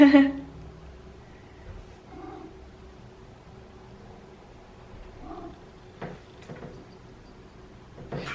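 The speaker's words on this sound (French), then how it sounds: "il ouvre ce placard coulissant" Cat pawing open a sliding cupboard door at home: a few sharp knocks and sliding clatters toward the end, with a couple of soft meow-like sounds and low voices in a quiet room.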